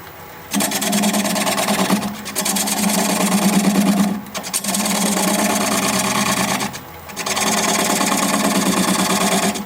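Wood lathe spinning hard driftwood at about 550 rpm while a 3/8 inch bowl gouge removes a tenon, giving a steady whirring hum with rhythmic scraping cuts, broken by several brief pauses between passes.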